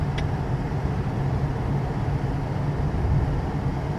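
Inside a 1988 Ford Thunderbird on the move, the engine and road noise form a steady low rumble with a constant hum, loud and unbroken for several seconds with no talk over it.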